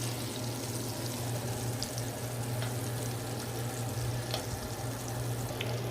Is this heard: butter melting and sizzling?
yes